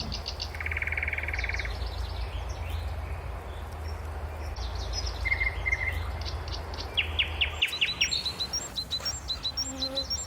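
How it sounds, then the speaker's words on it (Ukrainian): A nightingale sings from tree branches in a spring forest, repeating short bright phrases and trills over a steady insect and outdoor background hum, with other birds chirping faintly nearby. "На гілках дерев голосно співають пташки. Це співає соловей. Давай його послухаємо."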